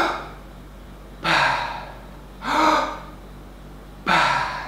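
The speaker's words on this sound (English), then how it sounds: "So this is the hook breathing." Freediver's hook recovery breathing: three loud, close breath sounds spaced about a second apart, each a sharp full inhale followed by a held pause and a softer passive exhale, with no talking.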